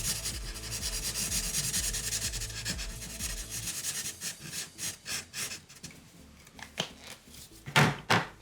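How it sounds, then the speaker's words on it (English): Chunky marker pen scratching over paper while filling in a drawing, continuous dense rubbing strokes at first, then shorter separate scribbles and taps, close and fairly quiet. "Just grab the other chunky pen, and what I will do with that is just fill that in"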